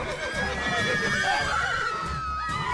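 Roach the horse neighing in The Witcher 3 video game, a drawn-out whinny over a loud game soundscape of hoofbeats and combat, with a voice talking underneath.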